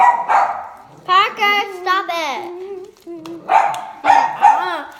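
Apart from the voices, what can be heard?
dog barking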